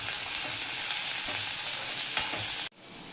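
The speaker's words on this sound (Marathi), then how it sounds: "आता गोल्डन कलर येईपर्यंत त्याच्यामध्ये आपण लाल करूया." Onions frying in a pan until golden, a dense, even sizzle with soft stirring underneath, close and loud, cutting off abruptly near the end to a quiet room hum.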